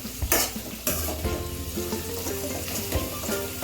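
Turmeric sizzles in hot oil while a utensil stirs it in a pan, steady frying crackle with scraping clinks and a few sharp knocks, close and alone without talk.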